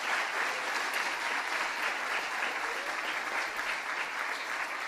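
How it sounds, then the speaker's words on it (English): An audience at a 2019 high school new venture challenge gives a sustained round of applause, steady dense clapping throughout with no speech over it. "if we can give a round of applause for the coaches and mentors"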